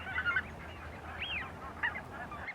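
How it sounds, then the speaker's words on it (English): Greenland White-fronted Geese at Ynys Hir, heard in a few loud nearby honks and yelping calls, rising and falling in short bursts over a steady low background murmur. "it's not just me who's delighted to see these geese coming back every year"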